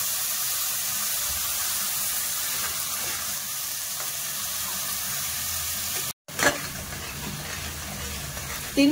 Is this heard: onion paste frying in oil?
yes